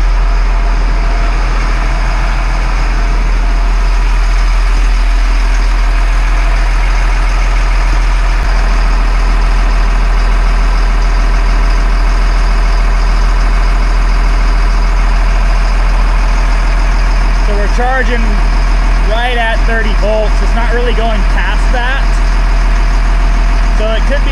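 LMTV military truck engine idles steadily, a loud, deep, constant diesel rumble close by for the whole stretch, with someone talking over it in the later part.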